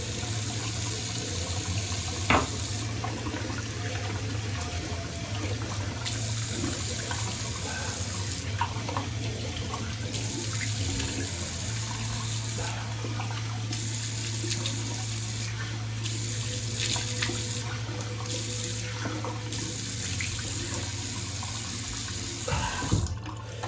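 Water runs steadily from a bathroom tap into a sink while rinsing off after a straight razor shave, a constant close splashing flow with occasional handling knocks near the end.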